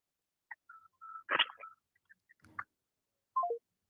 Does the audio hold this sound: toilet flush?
no